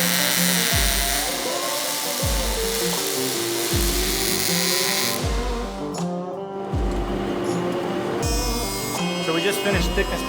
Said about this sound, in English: we're just running it through our thickness planer so that we can get it down to the 3/4 measurement that we want.